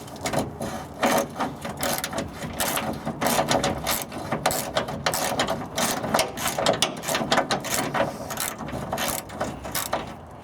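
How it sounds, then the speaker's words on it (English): Rapid metallic clicking of a ratchet turning a nut on the fuel pump of a 1996 Ford F-250, a dense continuous run of close clicks with no talking. "Alright, so take your ratchet off"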